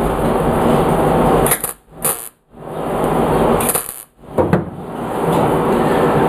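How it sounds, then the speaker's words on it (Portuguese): Welding torch tack-welding a replacement side panel onto a 1971 Volkswagen Beetle during restoration, a loud sustained crackling hiss broken by two short pauses, close to the microphone. "Vou pegar um ponto de solda aqui, ó, nessa região, pra travar ela primeiro."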